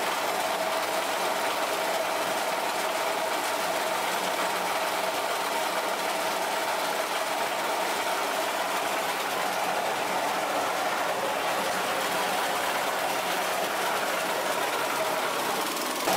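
A TAKYO coconut fiber shredder powered by a 5.5 HP single-cylinder four-stroke petrol engine runs steadily, its loud continuous mechanical drone and rattling grind holding without break throughout, with no talk.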